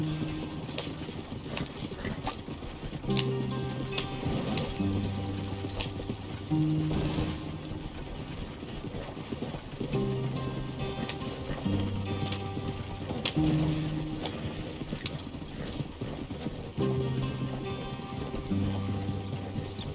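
Horse hooves galloping in Red Dead Redemption 2, a steady rhythmic clip-clop with tack jingling under a repeating low musical score, moderately loud throughout.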